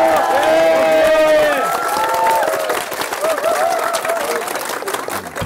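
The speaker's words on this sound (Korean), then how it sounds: "박수 한번 주시죠." A studio audience on a Korean variety game show breaks into loud, sustained applause and cheering, with show music and voices mixed underneath throughout.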